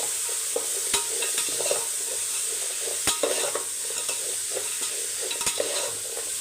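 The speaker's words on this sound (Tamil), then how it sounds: "நல்லா காய் வந்து வதங்கட்டும்" Mixed vegetables with soya chunks sautéing in a pan while being stirred, a steady close sizzle broken by several sharp clicks of the spoon against the pan.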